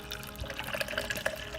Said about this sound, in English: So I'm just gonna add my water